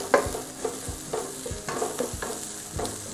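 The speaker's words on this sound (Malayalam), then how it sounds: "നന്നായി വഴറ്റിക്കൊണ്ടിരിക്കുക" A spoon scrapes and stirs masala frying in a pan for Kerala-style beef kumbanadan, making a steady rhythm of about six close strokes over a soft, continuous sizzle, with no talking.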